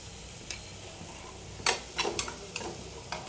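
Spice tempering sizzles in hot oil in a pan, breaking into a few sharp crackling bursts and pops over a quiet hiss.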